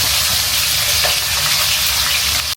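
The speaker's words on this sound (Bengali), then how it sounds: "এক পিস ভাজা হয়ে গেছে, আরেক পিস ভাজা হয়ে গেলে তুলে ফেলবো।" Fish pieces fry in hot oil, a loud dense sizzle that hisses evenly throughout without pause, close by, then cuts off abruptly at the end.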